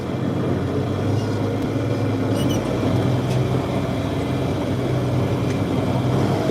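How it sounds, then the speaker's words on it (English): A John Deere tractor engine runs in gear on a farm, a steady loud droning rumble that holds evenly from start to finish with no talk over it. "So we'll get this tractor in gear."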